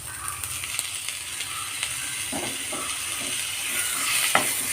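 A tomato goes into a hot frying pan while cooking semiya biryani, giving a steady close sizzle with a few faint clinks and stirring scrapes and no talking.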